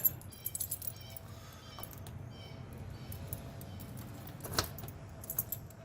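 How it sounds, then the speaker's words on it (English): A bunch of Ford car keys, for a 1967 Mustang being restarted after 22 years, jangles and clinks close by in a steady, continuous metallic rattle, with a few sharper clacks near the start and end. "We have several Ford keys on here, so we'll figure out which one goes to what"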